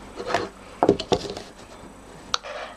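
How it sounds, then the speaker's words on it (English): A stylus scores diagonal lines into card over a silicone mat, giving a few short scratchy strokes and taps, close and fairly quiet, spaced irregularly. "now I'm going to be making these diagonal score lines."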